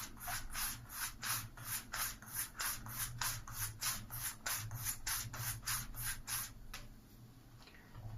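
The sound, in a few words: straight razor stropped on leather strop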